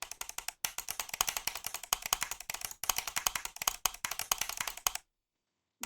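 Computer keyboard typing, brisk clattering keystrokes in rapid irregular bursts with a brief pause near the start and another midway, close and fairly loud, alone, then cutting to silence near the end.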